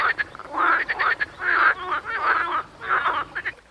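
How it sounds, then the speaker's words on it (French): Many frogs croaking in a pond basin at the back of a yard, a dense chorus of rasping calls in repeated bursts, fairly close and loud, with no talking. "Un train, les grenouilles."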